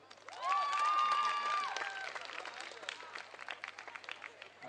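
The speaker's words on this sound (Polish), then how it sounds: "Proszę, brawa dla VIP-a." At a beach volleyball tournament, a sustained whistle-like tone rings out, then spectators at the Silesia Open give scattered, moderately loud applause that patters on unevenly.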